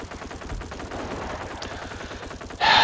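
Sustained automatic fire from a German MG bunker in the World War II strategy game Company of Heroes, in a rapid, steady rattle amid battlefield noise, ending in a louder, harsher burst.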